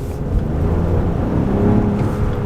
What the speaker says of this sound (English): And then I just did a little bit of an acceleration there